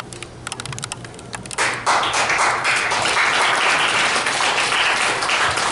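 Audience at a Korean health talk breaking into applause, a few scattered claps at first, then a sudden swell into loud, sustained clapping from the whole room.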